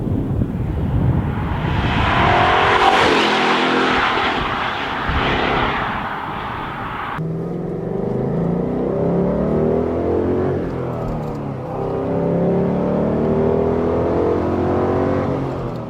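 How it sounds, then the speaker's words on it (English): A V8 Ford Mustang GT with a 5-litre engine drives on a winding road in South Germany, its deep engine note rising and falling in loud, sustained revs and gear changes. "this is the V8 Ford Mustang GT, 5 litre"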